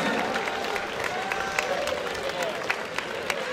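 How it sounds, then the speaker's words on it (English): Crowd clapping and cheering at moderate volume after a three-round fight, a busy wash of claps with a few sharper hits standing out. "let's get a big round of applause, please, for both these men"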